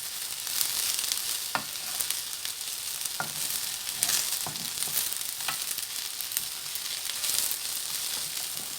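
Mushrooms and garlic fry in a pan while being stirred, giving a steady bright sizzle with occasional scraping clicks of the utensil throughout, close and continuous, with no voices.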